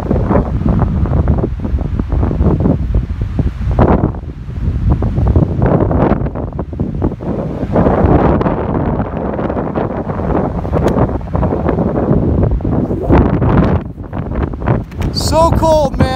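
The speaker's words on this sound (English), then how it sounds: "So cold, man. Holy shit, and windy as hell." Heavy wind by Big Bear Lake, California, in cold pre-storm weather buffets the microphone with loud, rumbling gusts throughout, low and roaring, with occasional faint voices mixed in.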